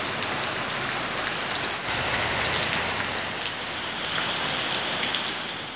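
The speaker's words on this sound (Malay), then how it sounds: "Hari ni hujan" Steady rain falls on surfaces outdoors in Malaysia, a dense continuous hiss with no one speaking.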